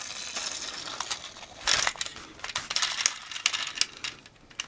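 Rubbery wheels on a Playmobil Explorers toy quad roll quietly across a surface, producing a close, uneven run of soft crunching and clicking with a few louder bumps.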